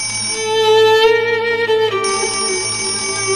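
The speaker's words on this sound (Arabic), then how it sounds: "رن التليفون" A telephone rings at home with a steady electronic bell-like ring, its harmonic tone repeating in a clear pulse for several seconds, loud and alone with no voices.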